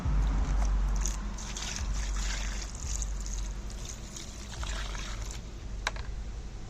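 Water poured into a pan of gold-claim dirt and slurry during home panning, a splashing rush that starts loud and then settles into a steady trickle, with small clicks and knocks on top.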